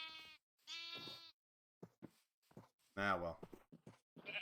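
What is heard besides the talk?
sheep bleating in Minecraft video game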